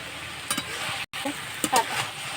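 Chicken is stirred with a spoonful of garam masala in a pan for chowmein: short scraping stir strokes over a steady low sizzle, with a brief dropout in the middle.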